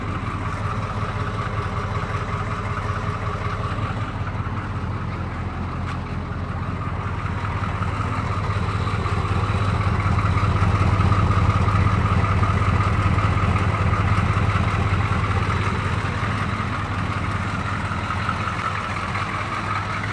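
The 6.2L Detroit Diesel engine of a 1983 Chevy K5 Blazer Silverado idles nearby with a steady, low rumbling drone. It continues evenly for about twenty seconds with no talking.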